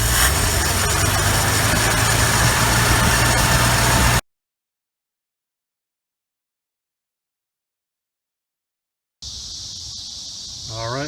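A 1968 Ford F100 truck with an old Carter one-barrel carburetor, revived after twenty years in the woods, idles loudly and steadily, cuts to silence for about five seconds, then resumes at a lower level with some faint chatter.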